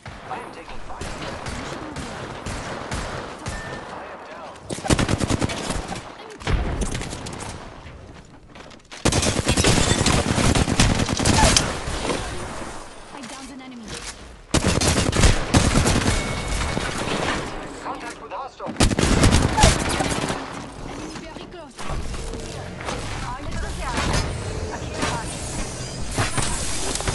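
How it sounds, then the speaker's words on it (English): Dense automatic and burst gunfire crackles through a close Apex Legends arena fight as the player takes fire, with sustained loud volleys broken by brief pauses and occasional voice chatter underneath. "I am taking fire."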